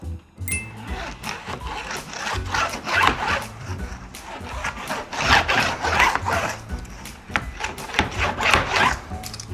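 Insect screen mesh being pushed along a window frame rail by hand, giving repeated scraping and rubbing strokes in an uneven rhythm, close and fairly loud.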